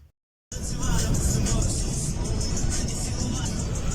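A car rolls along the road toward Cherkasy from Chornobai, steady loud road and engine noise close by after a brief silent start, with a voice talking over the drive.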